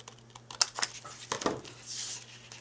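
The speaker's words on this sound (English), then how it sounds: "Let's see if I can do it with my scissors." Scissors snip through tea-dyed paper for a prayer journal, a few quiet, close crisp cuts and rustles spaced over a couple of seconds.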